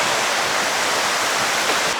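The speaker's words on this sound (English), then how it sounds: "Oh, the water's beautiful," A glacial stream in British Columbia rushes steadily nearby, a dense, even roar of flowing water with no pauses.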